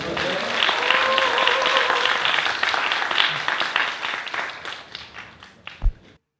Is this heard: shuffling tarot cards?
no